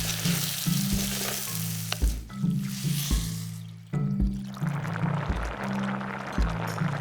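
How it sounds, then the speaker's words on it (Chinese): Rice being stir-fried in a hot pan before it goes into a clay-pot dish, heard as steady close sizzling broken by repeated scraping and stirring strokes at an uneven rhythm. "大米也要炒一下，"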